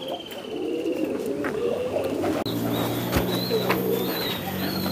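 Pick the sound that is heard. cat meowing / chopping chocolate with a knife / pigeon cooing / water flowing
pigeon cooing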